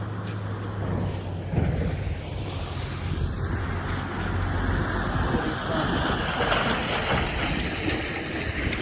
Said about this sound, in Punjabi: ਦੇਖੋ ਇਹ ਇੱਥੋਂ ਡਰ ਲੱਗਦਾ ਹੈ ਪਾਣੀ ਕਿੰਨੀ ਤੇਜ਼ ਜਾਂਦਾ ਹੈ